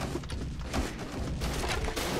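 Rapid gunfire crackles in a competitive team shooter match on the Rubezh map. The shots come in dense, overlapping bursts that stay loud through the short moment.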